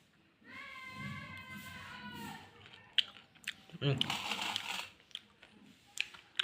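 Crispy fried chuna fish eaten with pakhala. A voice comes first, then close, crunchy bites and a few seconds of chewing follow.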